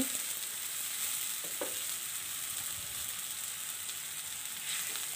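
Onion and spice mixture sizzling in a pan just after a splash of water is added, giving a steady, close frying hiss with a few soft stirring scrapes and no voices.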